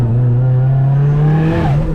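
A rear-wheel-drive EVO drift car with a CA engine, revving loud and steady from an onboard position, its pitch holding high and then dipping slightly near the end, with no talk.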